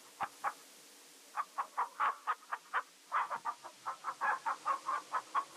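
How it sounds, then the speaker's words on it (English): A chicken in the King's Quest 3 remake game clucks in a rapid series of short, bright repeated notes, one clucking run followed by a longer steady string, clear and alone. "You pick up the chicken."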